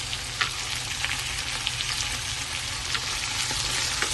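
Soaked cashews and raisins frying in a pan with beans and carrots, a steady close sizzle with small pops and crackles throughout, no talking.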